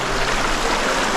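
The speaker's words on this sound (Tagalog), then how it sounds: "Di ko na malapitan kasi medyo malakas yung agos ng tubig." A strong, knee-deep river current in Bulacan, heard as a steady, loud rush of flowing water with no breaks.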